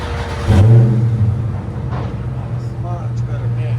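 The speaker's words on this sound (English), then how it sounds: "This is FLOWMASTER Super 44." A 2020 Dodge Challenger 1320 Edition with the 6.4L V8 and Flowmaster Super 44 exhaust gives a sudden loud rev burst, then settles into a deep, steady rumbling idle close by, with faint talk and construction noise behind it.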